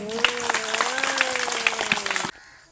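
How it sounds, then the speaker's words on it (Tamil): Audience clapping at a school Children's Day celebration in Tamil Nadu, steady and fairly loud under a sustained tonal hum, then cutting off abruptly as a quiet background remains. "அவர்களை கைத்தட்டி வர"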